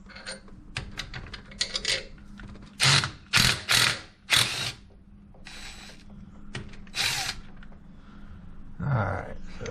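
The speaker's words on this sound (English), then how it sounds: "you'll need a 5/8 for these bolts" A ratchet wrench clicks through several bursts of quick pawl ratcheting while loosening 5/8 bolts on the axle of a 1998 Jeep during a Dana 30 axle teardown, close-up, with pauses and metallic handling noises between bursts.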